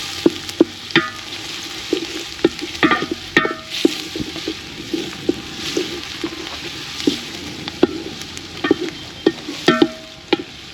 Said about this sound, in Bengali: তেল গরম হয়ে গেছে এখন আমরা পেঁয়াজগুলি দিয়ে দিব